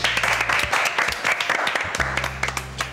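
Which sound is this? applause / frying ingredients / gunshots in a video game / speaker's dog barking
applause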